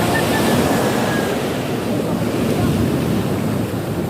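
Sea waves surging and washing steadily on open water off Batangas, heard as a continuous broadband roar mixed with wind buffeting the microphone, with no talk over it.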